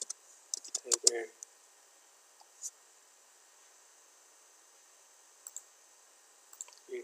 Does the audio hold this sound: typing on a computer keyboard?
yes